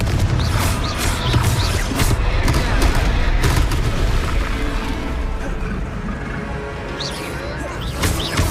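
Confringo blasting spells from the Hogwarts Legacy video game go off in a run of loud, booming explosions with crackling impacts during a troll fight, played back to back at close range.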